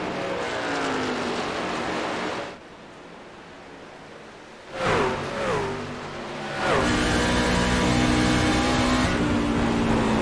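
Racing truck engines roar on an oval in the iRacing sim, a loud continuous drone with a brief dip and a pass-by swell near the middle before rising to a steady, full-throated wail.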